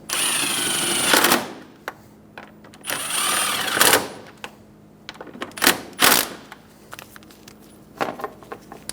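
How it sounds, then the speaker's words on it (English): Ratchet with an 8mm socket tightening intake boot bolts on a 2000-2007 Ford Focus, heard as bursts of rapid clicking ratchet strokes with pauses between them, close and fairly loud. "Use the 8mm socket and tighten down the 2 bolts."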